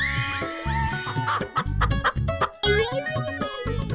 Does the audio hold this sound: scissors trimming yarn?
no